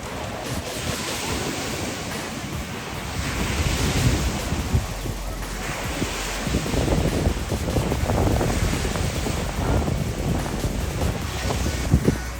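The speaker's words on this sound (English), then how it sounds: "Wind is picking up, so now it's wave time." Wind and waves on the Sea of Galilee shore, a constant rushing roar of gusting wind buffeting the microphone over breaking, washing surf, loud and close, with no talk.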